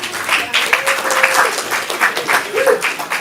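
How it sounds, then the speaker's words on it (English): An audience at an improv comedy show applauds loudly and steadily, with a few whoops and cheers rising above the clapping. "give yourselves a round of applause."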